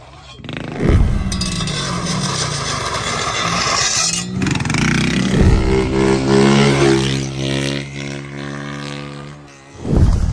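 A motorcycle engine revs hard and whines nearby while the bike is dragged or scraped along the ground, with loud sweeping pitch changes and sharp bursts at the start and end.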